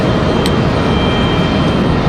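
A Frontier Airlines jet, flight 3322 from Miami, lands at Raleigh-Durham International Airport with a loud, steady, broadband engine roar that holds throughout.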